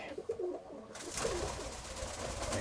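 Pigeons coo softly and repeatedly at close range, with a burst of broadband rustling like wing flutter partway through.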